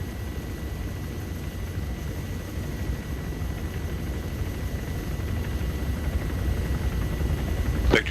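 A helicopter in the Arma 3 video game lifts off, its steady rotor and turbine roar a dense, continuous wash that swells slightly louder toward the end, with no voices over it.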